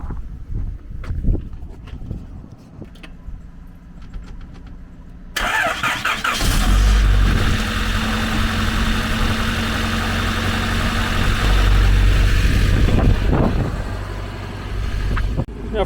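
Quiet clicks and rustling, then a Mini car engine with a Honda VTEC swap, unstarted for over a month, cranks and catches with a loud rev before settling into a steady, rumbling idle nearby.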